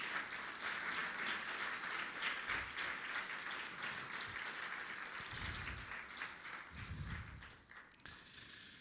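A church congregation applauds with loud, sustained clapping that swells and then gradually thins out toward the end.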